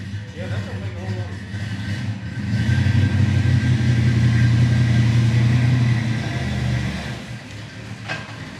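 A car engine idles and rumbles steadily in a garage, swelling louder as a vehicle is moved out, then easing off, with people talking nearby over the low drone.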